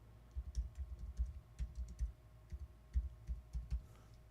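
Computer keyboard typing in a search box: a quiet, uneven run of soft key clicks with short pauses, heard alone and close.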